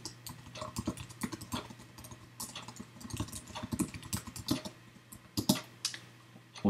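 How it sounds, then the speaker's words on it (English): Keys clatter in quick irregular bursts as a command for a vCloud PHP SDK login script is typed on a computer keyboard, close and moderately quiet with a faint steady hum beneath, no talking. "Go ahead and type php, the script name, and we'll need to specify a vCloud URL."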